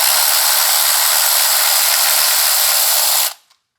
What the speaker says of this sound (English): use the electric ratchet,